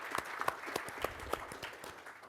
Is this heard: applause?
yes